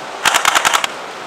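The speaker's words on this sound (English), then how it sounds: "That is the shooting test for the M41 Airsoft." Short full-auto burst from an M41 airsoft rifle fired from the hip, about seven rapid sharp pops in under a second, close and loud, then silence.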